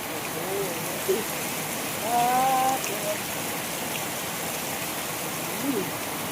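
Heavy rain pours down in a dense, steady hiss during a storm in Sakon Nakhon, Thailand, mixed with rushing water, while someone speaks briefly over it.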